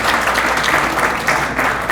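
An awards dinner audience at Hermes Expo 2026 applauds in a steady, loud burst of dense clapping that fills the room without a break.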